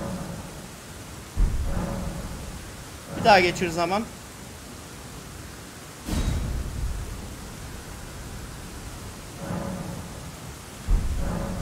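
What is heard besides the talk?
rain and thunder, from video game Elden Ring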